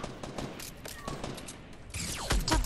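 Fortnite gameplay with sharp gunshot cracks, a few spaced reports followed by a louder burst near the end, with game noise and some talk in the background.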